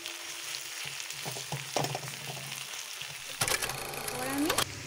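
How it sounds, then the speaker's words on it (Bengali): Ginger-garlic paste added to browned onions frying in a pan for an egg curry, with a soft steady sizzle that swells into a louder, brighter hiss as the paste hits the oil. "এইবার পেঁয়াজটা ভাজা ভাজা হয়ে গিয়েছে, বাটা আদা রসুন বাটাটা আমি দিয়ে দেবো"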